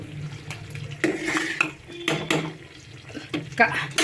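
A spoon stirs tamarind stew in a cooking pot, making intermittent scraping and clinking against the metal at close range, with a low background hum between strokes.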